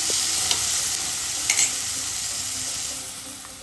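Onion and tomato fry with a steady close sizzle in a pan while a spoon scrapes and stirs in a few brief strokes, with no talking.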